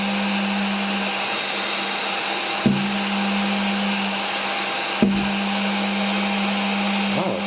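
A DIY mini CNC machine built with carbon fiber parts runs at full speed while clamped in a big vise, making a loud, steady hum with slight vibration and two brief clicks along the way.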